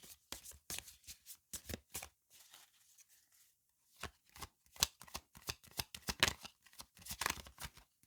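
Tarot cards are shuffled by hand in quiet bursts of crisp riffling and slapping, with a short pause midway before faster, busier shuffling resumes.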